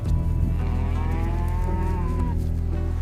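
Beef cattle on an open-range American ranch give a drawn-out moo over a constant low rumbling background, close and fairly loud, with a second shorter call near the end.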